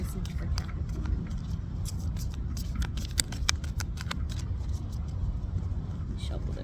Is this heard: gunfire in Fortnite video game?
no